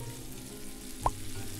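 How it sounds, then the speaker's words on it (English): Steady frying sizzle of food on a kitchen grill in the video game Octodad, a continuous hiss with one brief higher blip partway through, no voices. "I'm just gonna turn all these on"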